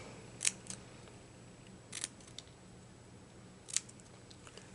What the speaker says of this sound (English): cut your flags down to the middle